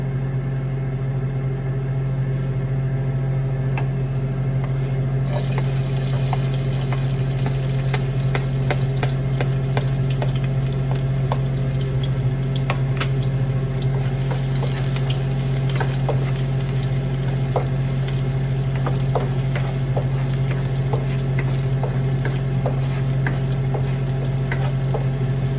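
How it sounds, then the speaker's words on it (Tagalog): Garlic frying in hot oil while cooking chicken feet, a steady close sizzle that runs the whole time, with a low constant hum underneath and small crackles and stirring sounds scattered through it, no voices. "Maglalagay na tayo ng bawang."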